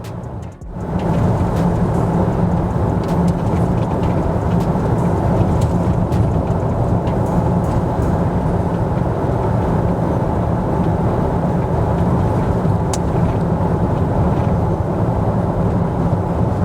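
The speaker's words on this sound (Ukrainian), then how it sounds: "90 робимо тишу в салоні і дивимося, скільки, яка шумоізоляція" Cabin noise inside a Land Rover Discovery 5 with a 3.0 petrol engine cruising at 90 km/h, a steady, loud low rumble of road and wind noise that holds unchanged throughout, with no one speaking.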